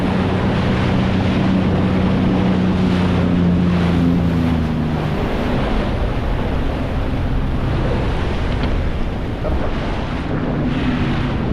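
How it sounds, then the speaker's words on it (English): Wind roars steadily and loudly across the mic while a Sea-Doo personal watercraft rides through choppy ocean chop in about 20 mph wind, with water rushing and slapping throughout and no talking. "Bunch of chop, lots of wind."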